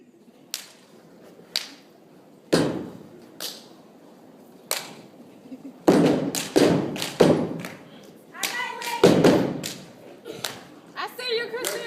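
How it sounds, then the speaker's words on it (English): Hands clapping in a quiet room, sharp separate claps at first, then quicker irregular bursts of slaps, with a person talking between them. "You clap them hands."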